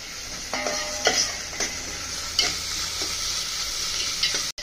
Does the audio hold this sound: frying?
yes